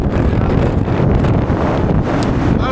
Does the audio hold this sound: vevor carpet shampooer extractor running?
no